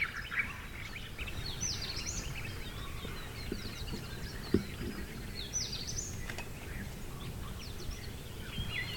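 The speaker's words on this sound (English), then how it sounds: "This bird is called the blue-faced malkoha." A blue-faced malkoha calls in forest in Yala National Park, Sri Lanka, with faint scattered chirps and short calls over a steady hiss of outdoor ambience.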